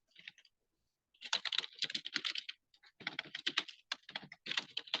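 Someone types on a computer keyboard while entering product details into a web app. Quiet, close bursts of rapid keystrokes are broken by short pauses.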